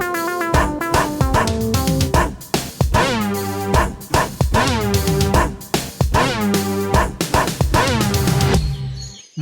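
In a kids' animation, a dog barks and yips in a busy, rhythmic series of loud voiced calls, mixed with musical tones.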